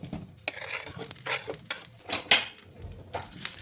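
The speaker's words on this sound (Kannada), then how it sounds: "ಕಡಾಯಿ ಒಂದು ಸ್ವಲ್ಪ ಬಿಸಿ ಆದ್ಮೇಲೆ ಕಟ್ ಮಾಡಿದಂಥ ಬೆಂಡೆಕಾಯಿನ ಹಾಕ್ತೀನಿ" Cut okra goes into a hot kadai for frying, with soft sizzling under clinks and scrapes of a spatula against the pan. The sounds are close and fairly quiet, broken into short irregular stirs.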